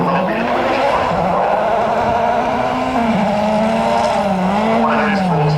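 A rally car at full speed on the Walters Arena stage of Wales Rally GB, its engine note loud and close with pitch rising and falling through gear changes as it blasts past, continuous throughout.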